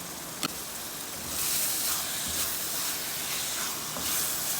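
Keema fries in ghee with fresh coriander and green chillies, giving a continuous soft hiss and steam that swells slightly midway, with one brief tap near the start and no voices.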